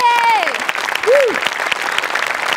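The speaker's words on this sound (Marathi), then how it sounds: "एकदा जोरात टाळ्या" Dense audience applause fills a comedy stage show taping, loud and steady throughout, with a couple of brief rising and falling vocal tones over the start.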